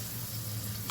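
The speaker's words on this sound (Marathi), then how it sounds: "तेल गरम झाले, पापड टाकूया" A papad sizzles in hot oil in a pan, a short steady hiss of frying with no pauses.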